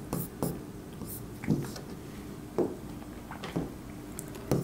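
A pen scratches across paper while an accounting heading is written out by hand, quiet close strokes arriving in short irregular bursts with small pauses between words.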